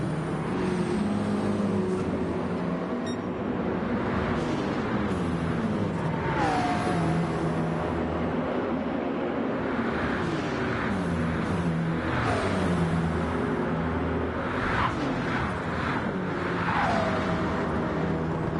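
McLaren and BMW GT race cars battle at the Nürburgring 24 Hours, their engines giving a continuous loud roar with rising and falling revs and gear changes as the cars pass close by.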